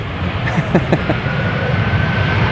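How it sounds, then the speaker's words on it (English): A Boeing 737 coming in to land at Amsterdam Schiphol Airport gives a loud, continuous jet engine roar. The rumble holds steady and close for the whole stretch, with no voices over it. "Interesting how those airplanes can sound so big."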